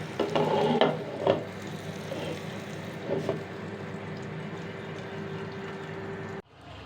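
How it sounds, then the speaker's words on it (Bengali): Pointed gourd (potol) frying slowly over low heat in a pan, a soft, steady sizzle with a few stirring scrapes near the start, close and fairly quiet, ending abruptly. "অল্প আছে একটু দমে দমে পটলটাকে ভাজি করে নেব"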